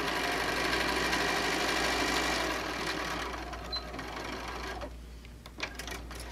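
A sewing machine runs a quarter inch seam on a tote bag, a steady close motor hum with rapid stitching that slows and fades partway through, followed by a low background drone and a few light handling taps.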